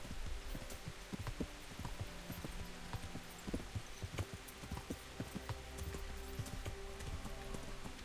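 Pebbles, a horse in Kingdom Come: Deliverance, runs over slippery wet clay ground, giving a steady stream of close hoof clip-clops with rain-like patter underneath and no talk.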